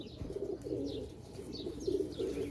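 Pigeons coo in a breeder's loft, repeated low throaty calls rising and falling in steady waves, fairly close, with faint higher chirps over a constant background hum and no talking.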